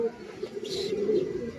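A checkered racing pigeon of PI line coos softly close by, a low steady throaty hum lasting about a second, with a voice faintly behind.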